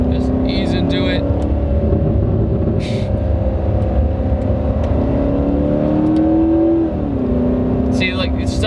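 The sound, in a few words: 2019 Corvette ZR1 accelerating and shifting gears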